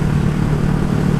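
A Honda Rebel motorcycle with a new aftermarket exhaust idles nearby, a steady low rumbling engine drone, loud and close, with no talk over it.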